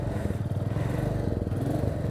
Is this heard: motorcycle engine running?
yes